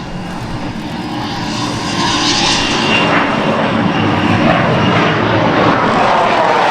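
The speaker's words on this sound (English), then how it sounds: "Watch now and listen to the U-2." A Lockheed U-2 Dragon Lady jet flies past at the MCAS Miramar Airshow, a loud broadband engine roar that swells and stays heavy and steady throughout.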